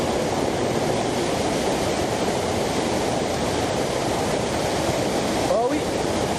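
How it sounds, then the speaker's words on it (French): A series of large waterfalls in a Franche-Comté canyon, heard as a dense, constant roar of falling water filling the scene, loud and close, with a brief voice near the end. "il y a une succession de grosses chutes"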